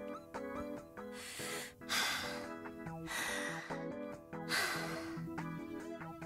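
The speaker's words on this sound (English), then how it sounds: "Specifically breathing origami sounds." Origami's breathing in the Date A Live video game, audible as soft gasps and snorting breaths set against gentle tonal game music, with repeated breathy surges.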